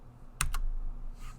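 Quick keystrokes on a computer keyboard, two sharp close clicks followed by a softer tap, over a quiet room hum.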